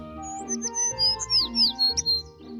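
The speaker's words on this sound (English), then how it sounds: "It's a sparrow chirping nearby." Bright, quick sparrow chirps and tweets repeat over a low steady hum, close by and fairly clear.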